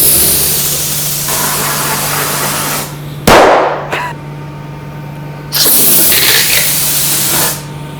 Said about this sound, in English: Probably can't hear me above that compressor.